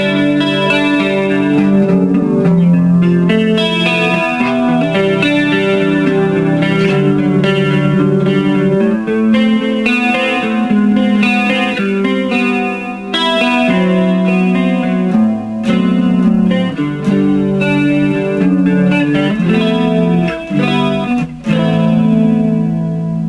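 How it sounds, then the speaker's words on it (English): Roland Microcube guitar amp on its JC Clean setting, modelled on a Roland Jazz Chorus, with reverb and chorus added: a bright clean electric guitar plays sustained chords and melodic lines continuously, loud and close, with a shimmering chorus and reverb tail and no talking. "This is a Roland Jazz Chorus imitation model."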